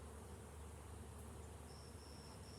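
Honey bees buzzing inside a hive during a Doolittle-method queen-rearing inspection, a steady faint humming drone with no pauses and no voices.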